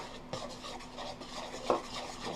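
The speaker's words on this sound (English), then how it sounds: "Yeah, I got a big spoon to stir it with." A big spoon stirs peach cobbler batter in a bowl, a soft scraping and rubbing texture with a couple of sharper clinks of metal against the dish, close and fairly quiet.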